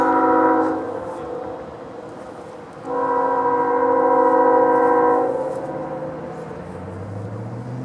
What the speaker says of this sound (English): This train is coming in pretty good